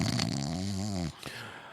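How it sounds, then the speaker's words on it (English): Heavy, rumbling snoring, several sleepers at once, fills the first second with a deep, harmonic drone, then breaks off into quieter breathing and faint background noise. "It was like an orchestra of snoring."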